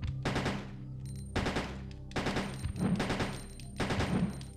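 Pistol fire in the video game Resident Evil 1.5, four loud close shots spaced about a second apart, each a sharp crack trailing into a brief rumbling decay.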